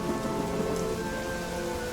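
Stormy weather in The Witcher III: dense rain pouring steadily, a low rumble of thunder underneath, continuous and fairly loud with no talking.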